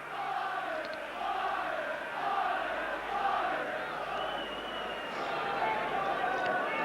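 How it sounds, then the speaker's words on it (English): A football crowd at a 1986 rugby league cup tie between Doncaster and Leeds at Headingley, a steady roar of cheering and shouting under a commentator's continuous talk. "Certainly the crowd getting behind Doncaster in the early stages"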